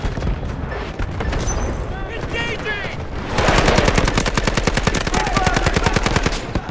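Rapid bursts of SMG-45 submachine gun fire in the shooter game Delta Force, loud and sustained with a steady fast rhythm, joined by some game effects early on.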